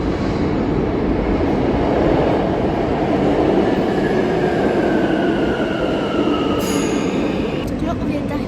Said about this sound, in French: le métro, il va arriver par là